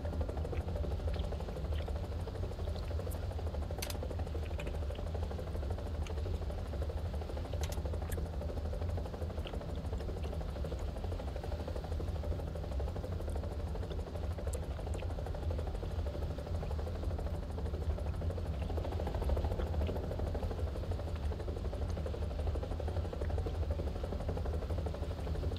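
A video game helicopter's engine drones steadily throughout, a continuous mid-pitched whirring hum at moderate level with a few faint clicks over it.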